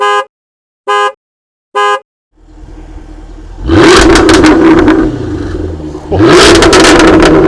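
A Jaguar F-Type V8 opens with three short, sharp horn-like blips, then its exhaust settles into a rumbling idle before two loud, close revs surge and roar.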